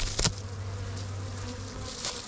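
Honey bees hum steadily in a hive box, a dense, close, continuous buzz that stays even throughout with no voices.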